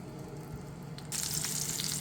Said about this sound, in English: just going to let this fry a bit